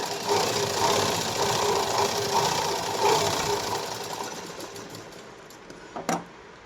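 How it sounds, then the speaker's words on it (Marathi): A sewing machine runs a double line of stitching along a blouse shoulder seam, a steady, close mechanical whir that holds for about five seconds, then trails off into quieter handling and a brief clatter. "आता मी लगेच याला डबल शिलाई मारून घेणार"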